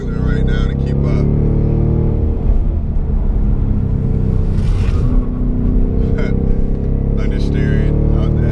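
The 670 bhp Roush 670 Warrior Scout Mustang on 255 Pirelli summer tires is thrown through tight corners on Snake Road, its engine droning loud and close while someone talks over it.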